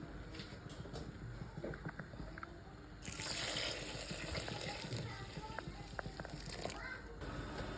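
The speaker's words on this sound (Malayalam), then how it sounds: "വെള്ളം ചേർത്ത് കൊടുക്കാം." Water is poured into a pot of prawn rice already holding cinnamon, cloves and cardamom, giving a brief close splashing gush midway through a quieter kitchen background.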